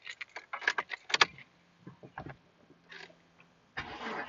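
A car engine, treated earlier with head gasket sealer, cranks and catches after a few jangling clicks, then settles into a low, steady idle nearby.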